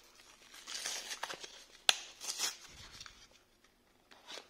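A Pokémon card blister tripack is opened by hand, giving bursts of crinkling plastic and sharp tearing, with one loud snap midway, scattered irregularly over a quiet background.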